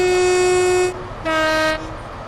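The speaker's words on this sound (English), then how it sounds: "Let's hear that nice horn from outside." Diesel locomotive horn in the Train Sim World 2 railway simulator, heard from outside as two loud, steady blasts, a long one followed by a shorter one after a brief pause, with no talk over it.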